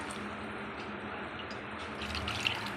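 Kidney bean cooking water pours steadily into a pan of rajma curry with smashed tomato, a continuous close splashing trickle that swells slightly near the end, with no voices.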